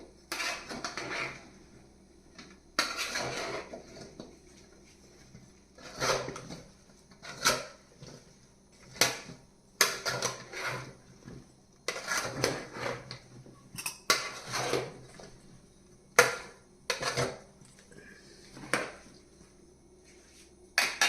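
Cut raw mango pieces for avakaya pickle are mixed in unheated oil in a steel vessel, giving intermittent clattering metallic scrapes and knocks in irregular bursts, close up.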